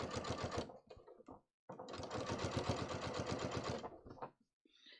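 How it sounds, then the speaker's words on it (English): A domestic sewing machine stitches a seam on slim-fit trousers, its needle running in a fast, steady rhythmic whir close by, with a short pause before a long continuous run of stitching. "Oops, I'm just going to stitch."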